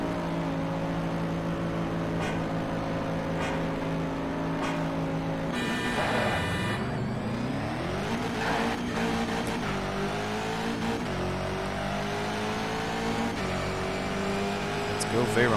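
Bugatti Veyron drag car engine in the racing game Shift 2 Unleashed, a loud steady high-revving drone that drops and climbs again through a gear change, continuous close throughout with a voice talking over it.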